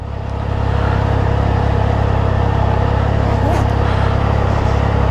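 A 2024 Triumph Trident motorcycle engine starts and settles into a loud, close, steady idle, with a low rhythmic throb that holds evenly for several seconds.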